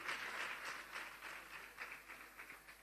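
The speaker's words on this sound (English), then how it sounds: "Please clap for her." At a business summit, an audience gives a winner a faint, distant burst of applause, steady hand clapping that slowly thins out over a few seconds.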